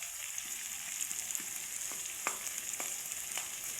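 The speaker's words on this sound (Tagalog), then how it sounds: "Isasabay ko na dito sa pag-brown ng bawang." Garlic and a chili frying in a pan for chicken adobo, a steady soft sizzle with light stirring taps scattered through, close and quiet, no voices.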